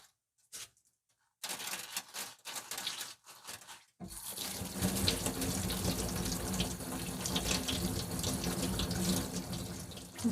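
Oranges being scrubbed with coarse salt and rinsed under a running tap for marmalade, a steady rush of water into a sink with rubbing and handling noises, preceded by brief scattered clatter and a silent gap.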